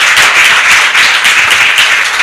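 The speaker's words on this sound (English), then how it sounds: "Let's clap for her." Loud, close audience clapping at a conference opening ceremony, dense and continuous for a couple of seconds with no talk over it.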